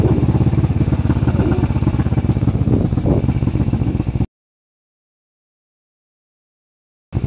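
Motorcycle engine running steadily under way on a road trip, loud and close with a dense rumble for about four seconds, then cutting to silence before briefly returning at the end.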